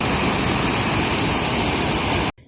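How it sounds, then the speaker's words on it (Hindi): Water rushes at the Head Baloki river headworks near Kasur, a loud, dense, continuous roar filling the scene before cutting off abruptly. "पानी का शोर यहाँ आप सुन सकते हैं।"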